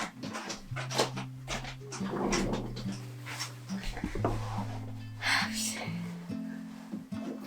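A dog pants and whimpers close by, with steady whining tones running through most of the clip while a woman scolds it over a screw it picked up instead of its toys; bird calls sound faintly in the background.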